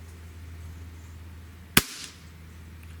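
A Smith & Wesson 78G/79G CO2 air pistol fires one sharp, loud crack close by, followed by a short fading tail, against a quiet steady hum.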